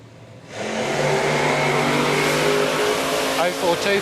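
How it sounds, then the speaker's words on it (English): Two supercharged altered drag race cars launch side by side at a drag strip, a loud sustained roar bursting in after half a second and holding steady, with shifting engine tones near the end. "two supercharged altered side by side."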